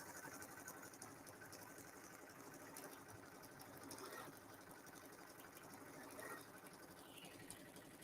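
A Brother PRS 100 Persona embroidery machine stitches with its hopping foot, a faint, steady rapid mechanical whir running evenly throughout without pause.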